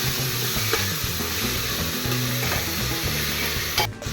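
Onions fry with salt in a pan for a pressure-cooker chicken dish and are stirred, making a loud, continuous sizzle with soft scraping from the spoon and a brief tap near the end. No one speaks.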